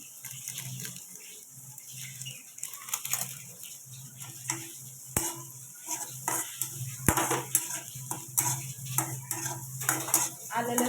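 Vegetables for paneer bhurji fry in a pan while being stirred, with a faint sizzle under repeated spoon scrapes and sharp metallic clinks against the pan.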